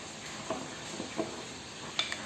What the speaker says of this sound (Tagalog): Imi-mix lang natin siyang mabuti.